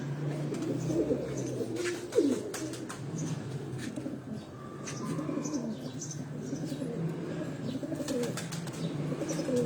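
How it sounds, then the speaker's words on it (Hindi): A chapra breed pigeon coos at a breeder's loft, soft repeated throaty coos among other birds' calls and chirps, with a brief flutter of wings and faint background sounds, fairly close. "ये वो चपड़ा कबूतर आपको दिखा रहा है हीरा।"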